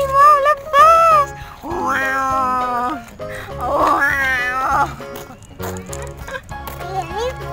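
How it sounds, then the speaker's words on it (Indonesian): A cat meows repeatedly at Surabaya zoo, its loud, drawn-out cries coming close by, while children and adults talk around it. "Ini bukan harimau. Ini kucing."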